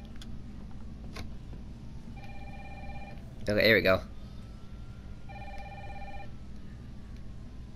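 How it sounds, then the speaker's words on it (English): A telephone rings in the video game Resident Evil 3, two bursts of electronic bell tone spaced apart with a louder clattering ring between, while someone speaks briefly over it. "Pick up the phone."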